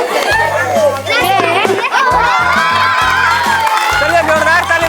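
A crowd with many children cheering and shouting loudly at a Ball and Matka challenge game event, with steady music playing underneath.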